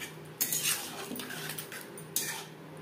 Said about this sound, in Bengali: মশলার সাথে পেঁয়াজ ও ক্যাপসিকাম নাড়াচাড়া করে নেব